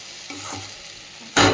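Potato and green banana sautéing with cumin and ginger paste, a soft stirring scrape and low sizzle that swells into a loud, close burst of frying at the end.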